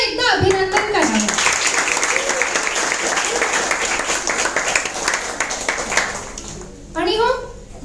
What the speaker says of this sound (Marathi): या सर्वांचे टाळ्या वाजून पुन्हा एकदा अभिनंदन करावे